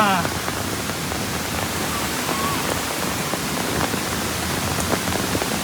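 Steady roaring rush of water falling at Manche waterfall in the monsoon fills the whole clip, a constant broadband wash with a person speaking faintly underneath.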